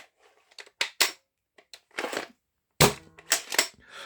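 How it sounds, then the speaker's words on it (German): Sharp plastic clicks and clacks of a modified X-Shot Longshot toy blaster's pump action come in quick bursts, close up, with short silences between the clusters. "das Klicken ist einfach der Hammer bei dem Blaster."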